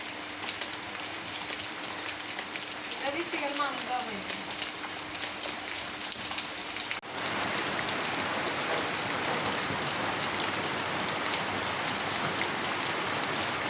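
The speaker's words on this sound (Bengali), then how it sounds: "বৃষ্টিটা জোরে আসতেছে না রে? হালকা পাতলা বৃষ্টি।" Light rain falls steadily in a village, a soft continuous patter with a brief tonal sound partway through, and the rain grows slightly denser after a short break.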